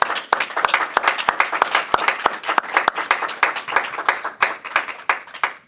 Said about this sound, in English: Let's give our 10 new hires a round of applause.